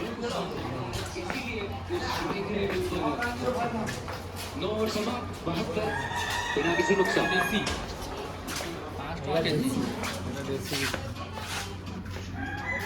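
Country (desi) chickens cluck and a rooster crows in a busy setting, the calls fairly close and woven through steady overlapping talk and background noise.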